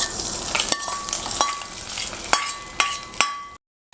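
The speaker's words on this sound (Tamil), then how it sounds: "முந்திரி பருப்பு பாதி வந்ததுமே கொஞ்சம் ட்ரை கிரேப்ஸும் சேர்த்துக்கிறேன்" Cashews and dry grapes frying in a pan for sakkarai pongal, with a steady close sizzle and several sharp metallic clinks of a stirring spoon against the pan before it cuts off.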